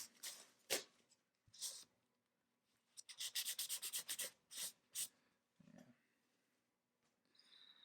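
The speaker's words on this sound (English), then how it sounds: "I need to do is kind of just wipe more instead of scrubbing" Paper towels soaked in acetone wipe across a nitrocellulose lacquer guitar finish, giving bursts of rubbing and scrubbing strokes, with a rapid run of repeated wipes in the middle and quiet gaps between.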